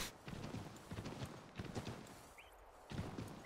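Horse hooves clip-clop in the video game Assassin's Creed 3, a quiet steady trotting rhythm of repeated hoof strikes with a brief lull midway before the gait resumes.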